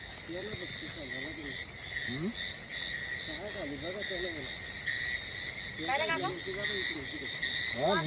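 Frogs croak at night in repeated rippling bursts against a steady high insect drone, with a few louder calls near the end.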